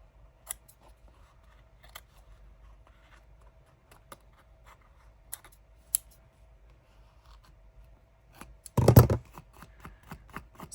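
Scissors trim cheesecloth at a craft table: scattered faint snips, then one brief louder cutting burst, close and quiet overall.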